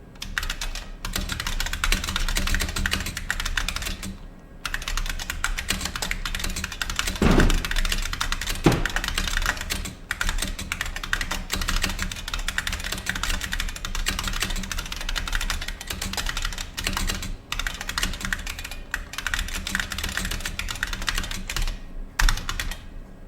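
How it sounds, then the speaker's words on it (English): Continuous fast typing, about 89 words per minute, on a clacky IBM Model F 122 buckling-spring mechanical keyboard, dense rapid keystrokes with a few short pauses and a heavier thunk now and then. "there you can see I was typing at 89 words per minute"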